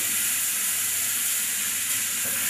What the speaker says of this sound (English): as the onions are cooking, put in some brown mustard seed